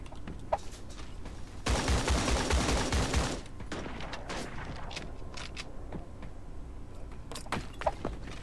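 Gunfire in the mobile shooter game Creative Destruction, a dense burst of rapid shots followed by scattered single shots over ambient game noise, moderately loud.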